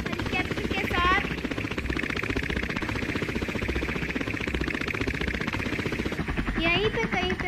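A helicopter in a police officer simulator video game drones with a steady rotor chop and engine hum throughout, loud and continuous, while a voice talks over it at moments.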